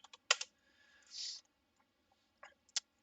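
A few quick computer keyboard keystrokes, sparse and close, clustered in short bursts with quiet gaps between them.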